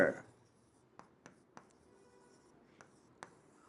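Marker or chalk strokes tap and scrape on a classroom board in a few brief, faint, spaced taps after a short burst of sound at the start, in an otherwise quiet room.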